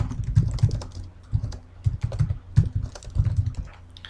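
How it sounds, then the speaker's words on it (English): Keys clack on a computer keyboard close by in uneven bursts of quick taps with short pauses, alone without talk. "I'll hit return, and I'm going to type some text."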